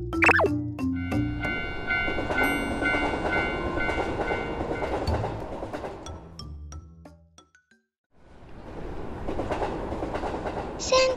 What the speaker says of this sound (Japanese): おや、見慣れない電車が走ってる